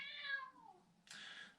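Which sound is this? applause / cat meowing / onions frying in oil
cat meowing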